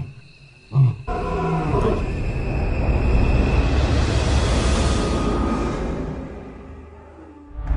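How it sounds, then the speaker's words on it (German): A lion roars at close range in the African savanna, one long, powerful, rumbling roar that swells and slowly fades after a short thump at the start. "Noch ein Brüllen. Diesmal aus nächster Nähe."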